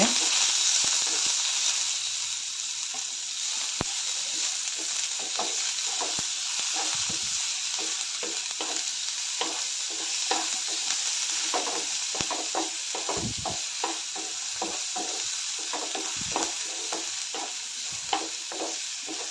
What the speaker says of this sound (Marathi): आता मिरची कांदा कढीपत्ता घालते एक दोन मिनट भाजन घे